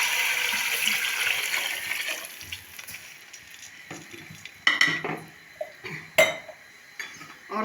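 Water is poured into a cooking pot of old basmati rice, a steady pouring rush that fades and gives way to metallic clinks and stirring clatter of the pot.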